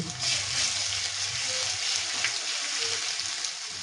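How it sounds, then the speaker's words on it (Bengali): Poppy seeds fry in a pan, giving a steady close sizzle with a bright hiss that runs evenly throughout. "পোস্ত একটু লাল লাল করে ভেজে নিচ্ছি"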